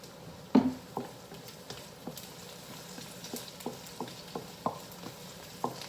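Onions sautéing in a pan make a soft, steady sizzle, broken by a string of light stirring clicks and scrapes at irregular intervals, with one sharper knock near the start; close and fairly quiet, with no talking.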